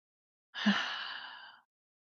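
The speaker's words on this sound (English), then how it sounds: "take a deep breath in" A single deep, soft breath is drawn and released, one smooth airy exhalation lasting about a second in near silence.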